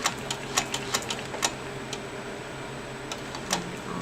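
A sewing machine stitching a seam, heard as a quiet run of light mechanical ticks with a few sharper clicks, irregularly spaced and fading in and out.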